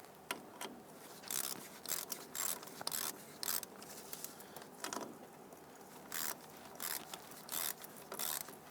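Ratchet wrench snugging a new bolt into a new front upper control arm on a 2000-2006 Toyota Tundra, quiet steady clicking in short repeated bursts with pauses between strokes, no talking.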